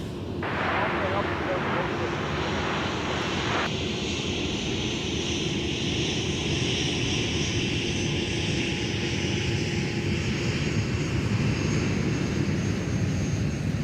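Southwest airliner arriving from Baltimore at Minneapolis–St. Paul airport, a loud continuous jet engine roar that holds steady throughout, with radio chatter underneath.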